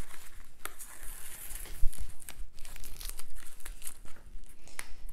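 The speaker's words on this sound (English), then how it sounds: "Now we're just going to take away our tape" Washi tape being peeled off the edges of a gouache painting on paper, heard close up as irregular crinkly tearing and rustling strips. The sounds come in uneven bursts and there is no talking.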